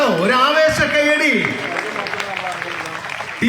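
An audience in Kondotty welcomes Shashi Tharoor with applause, a steady clapping wash that builds under an announcer's amplified voice and carries on after the speaking stops.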